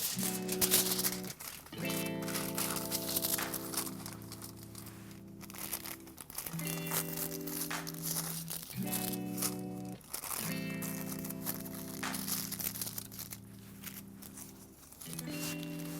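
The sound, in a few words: aluminium hair foil crinkling while being folded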